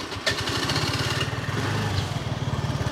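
A Benelli Panarea 125 scooter engine idles close by, a steady, rapid putter of even pulses that holds at a constant pace throughout with no voices.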